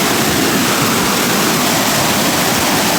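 Busai waterfall pours with a strong, dense roar, loud and constant throughout as the rushing water fills the scene with unbroken noise and no voices.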